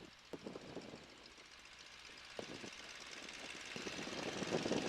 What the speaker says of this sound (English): So we're doing a run-up right now